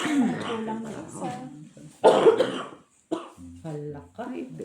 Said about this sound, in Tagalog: Iba na yung ubo ah.